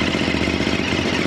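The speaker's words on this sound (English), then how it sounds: "Let's check out the sound of this bike." A Ducati Monster SP motorcycle engine idles steadily, a close, loud, even throb with no talk over it.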